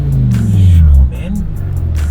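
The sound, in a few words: BMW 850i with V10 engine revving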